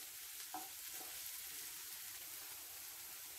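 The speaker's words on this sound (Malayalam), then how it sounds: "അപ്പോൾ നമ്മുടെ പാവയ്ക്ക നല്ലതുപോലെ ഫ്രൈ ആയിട്ടുണ്ട്" Thinly sliced bitter gourd (pavakka) fries in a pan with a soft, steady sizzle and a couple of faint stirring clicks, no voices.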